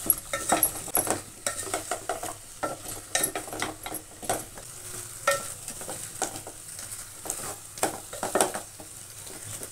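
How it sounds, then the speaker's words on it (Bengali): Pumpkin and potato pieces fry in a pan for a Bengali-style curry, with a steady soft sizzle and repeated scraping of a spatula against the metal as they are stirred, heard alone at close range. "তো দেখো একদম ভাজা ভাজা হয়ে গেছে"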